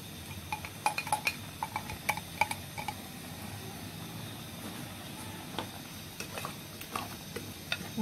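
Shrimp and mixed seafood with colored peppers, parsley and coriander frying in a pan as a cooked-down tomato sauce goes in, a steady low sizzle with scattered clinks and scrapes of the spoon stirring, close and moderately quiet.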